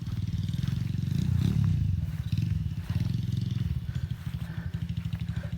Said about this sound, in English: Mini bike.